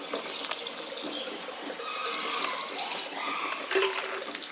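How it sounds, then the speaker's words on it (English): Purified water runs into the coolant tank of a welding water chiller, a steady, moderately loud gushing and trickling pour with faint clinks near the end. "Add purified water or distilled water to the location at the junction of the"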